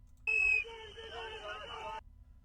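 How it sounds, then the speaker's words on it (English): Someone blows a whistle during a confrontation with federal agents in Minnesota, a sustained shrill tone of about two seconds, loudest at the start, over background crowd noise. "You have somebody blowing a whistle, obviously maybe to warn other people or to distract or irritate officers."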